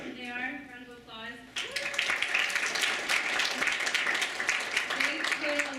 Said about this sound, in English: Here they are, round of applause.